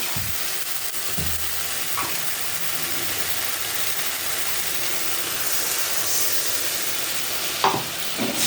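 Masala stir-fried in a pan, a continuous dense hiss and sizzle held at an even level, with a few scrapes and knocks of the spoon against the pan, near and with no talking.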